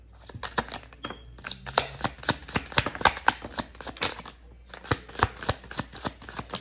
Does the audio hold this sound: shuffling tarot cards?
yes